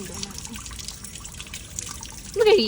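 Water trickling and dribbling in a steady, low wash during a college day outing, with a voice rising briefly near the end.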